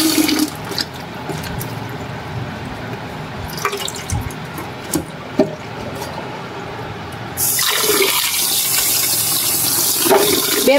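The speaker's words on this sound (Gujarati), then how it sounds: "આ ફૂલ છે ને બાઉલમાં લઈ લીધા છે ને આવી રીતના આપણે પહેલાં ધોઈ નાખીએ" Flowers being rinsed in a bowl of water, with continuous splashing and running-water sounds close by, growing louder and brighter in the last few seconds as the water flow increases.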